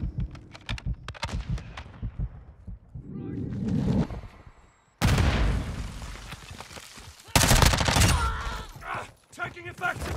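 Gunfire in the video game Call of Duty: MW2, with dense bursts of automatic fire and loud blasts in several clusters, and players' voices talking between them.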